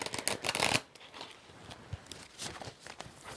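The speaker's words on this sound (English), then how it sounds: "Let me just shuffle these cards again" Tarot cards shuffled near a microphone, a loud riffling burst at the start followed by softer, irregular rustles and flicks of card stock.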